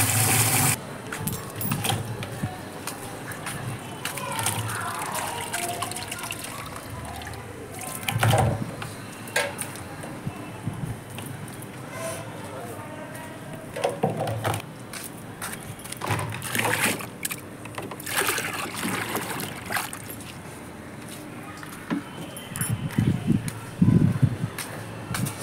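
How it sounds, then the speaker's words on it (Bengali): Jujube berries being washed by hand in a bowl of water, with close splashing, sloshing and rattling of fruit and bowl in irregular bursts running throughout. "কুলগুলোকে ধুয়ে তুলে নেব ভালো করে।"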